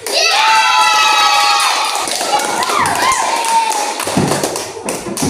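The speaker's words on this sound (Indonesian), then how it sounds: "itu kelompok 2, tepuk tangan." Students in a classroom clap and cheer for a group, loud overlapping shouts and hand claps that taper off toward the end.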